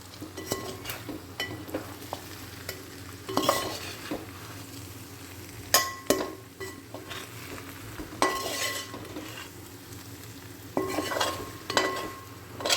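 Pork frying in its own rendered fat is stirred in a pan for a Kerala-style pork roast, with a steady sizzle broken by repeated scraping and occasional metallic clinks of the spoon.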